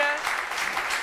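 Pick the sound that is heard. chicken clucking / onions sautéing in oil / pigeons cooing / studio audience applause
studio audience applause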